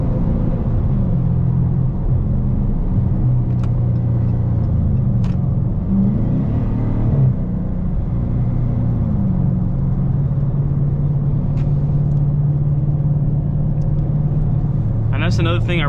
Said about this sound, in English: Hear that intake, man. That thing is sick.